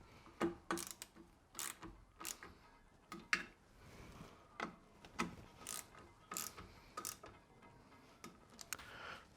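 Two 10mm screws are tightened into the bottom of a brake wheel cylinder on a rear drum brake of an RA23 Toyota Celica, giving a run of close, quiet ratcheting clicks in short bursts with no talk.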